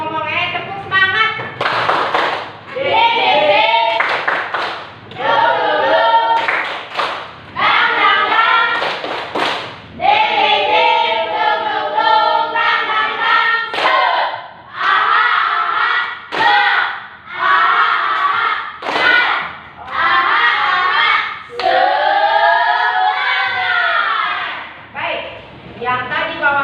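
An Indonesian language class performs the 'tepuk semangat' spirit clapping routine: loud, close rhythmic claps in patterned bursts, mixed with children's chanting voices and brief pauses between phrases.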